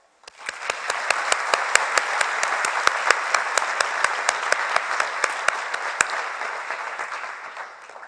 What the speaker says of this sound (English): Please join me in a round of applause to recognize our graduates and guests together.